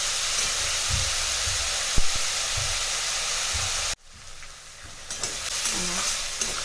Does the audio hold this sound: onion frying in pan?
yes